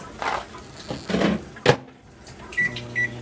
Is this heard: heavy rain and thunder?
no